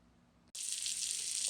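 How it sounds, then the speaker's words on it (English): Salmon skin sizzles in a hot pan on a stovetop, a loud, steady hiss that starts abruptly after near-silence and holds at a constant level. "Can you hear that sizzling?"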